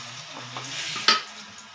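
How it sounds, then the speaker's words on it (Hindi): Chicken with garlic ginger paste frying in a pot, a soft sizzle with a brief stirring scrape and a sharp clink of a utensil midway, close and without speech. "अब इसमें मैं डालूँगी लहसुन अदरक का पेस्ट और चिकन डाल के उसको फ्राई करूँगी।"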